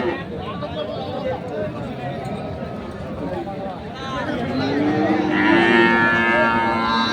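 Sahiwal bulls moo repeatedly amid a busy livestock market in Dinajpur, with people talking and haggling prices and a crowd murmuring in the background; the lowing grows louder and longer toward the end.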